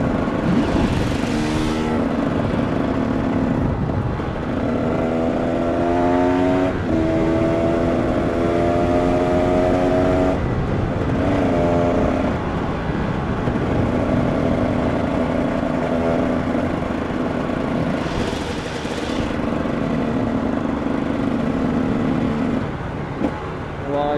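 A KTM 300 EXC supermotard motorcycle is ridden along a road, its engine droning steadily and rising in pitch through repeated gear changes, close and loud the whole time.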